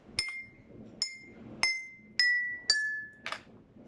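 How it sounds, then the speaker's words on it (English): Five clear, ringing taps on glasses that each sound a different pitch, spaced about half a second apart and stepping downward, each chime decaying quickly, followed by a short dull knock. "Hopefully this will make different sounds on each glass."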